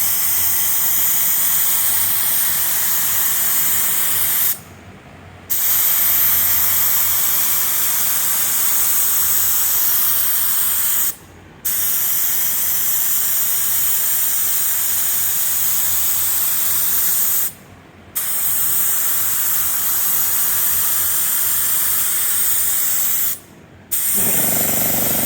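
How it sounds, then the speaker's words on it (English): A paint spray gun lays wet coats of metallic paint on a Jeep CJ7 under restoration, giving a loud, steady hiss in long passes broken by four short pauses. "the gun seems to be spraying fine"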